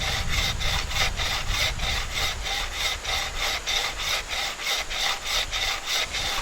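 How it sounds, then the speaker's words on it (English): A hand saw cuts V-notches into a wooden log stump, its steady back-and-forth strokes rasping loudly and evenly, close up, with no talking. "we're going to take and saw just a couple of straight notches, V-notches, straight into this log"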